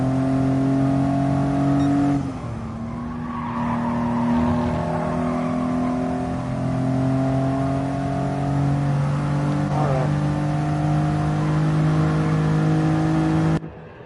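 A racing game car engine drones steadily at high revs, dropping pitch once as it shifts, then holding a constant buzzing whine until it cuts off.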